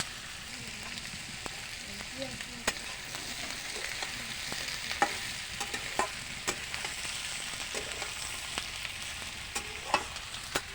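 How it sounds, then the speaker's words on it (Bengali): Onions, tomatoes and capsicum frying in a pan for a chicken kosha curry, a quiet steady sizzle broken by sharp spatula clicks and scrapes at irregular intervals. "এই পেঁয়াজের উপরে আমি টমেটোগুলো দিচ্ছি, ক্যাপসিকামগুলোও দিয়ে দিচ্ছি, ভাজা হয়ে যাবে।"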